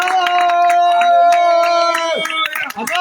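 A congregation at a prayer meeting claps in quick, steady rhythm over a sustained keyboard chord, fairly loud and close, with voices joining toward the end.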